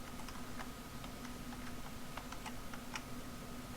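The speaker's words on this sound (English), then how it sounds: "This is another keyboard shortcut." Computer keyboard keys being pressed for shortcut combinations such as Control and Shift with function keys, heard as light, irregular clicks over a steady background hum, with no talking.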